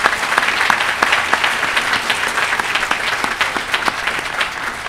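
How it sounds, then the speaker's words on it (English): Steady applause from an audience at a hospital groundbreaking ceremony, dense and continuous clapping with sharp individual claps standing out, fairly close and loud for the whole stretch. "please join me in a round of applause welcoming all these special guests"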